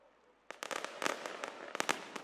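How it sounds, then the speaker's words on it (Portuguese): Fireworks for Favela Day in Rio de Janeiro's communities at midnight, heard as a quick run of sharp distant pops and cracks after a brief near-silence, with no talking. "Com direito a fogos de artifício, o Dia da Favela começou a ser comemorado logo à meia-noite."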